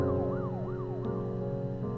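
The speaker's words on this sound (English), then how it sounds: "I don't have to ask if that was a siren in the game or in real life" Police siren from a video game, wailing up and down in repeated sweeping cycles at a steady, moderately loud level over a constant low background hum, with no talking.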